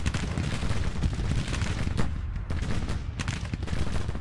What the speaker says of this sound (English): I got artillery bombarding